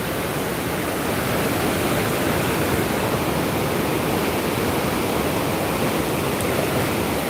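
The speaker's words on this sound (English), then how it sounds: "there's water coming from every angle" Loud, continuous rush of river water surging in Kingston, Jamaica, after Hurricane Melissa, a steady broadband roar that fills the whole stretch without letting up and with no voices over it.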